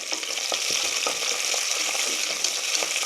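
Curry leaves crackle and sizzle steadily in hot oil alongside onions and dried red chillies while tomato rice is being made, with a dense, continuous frying hiss and a few soft stirring knocks, close and with no voices.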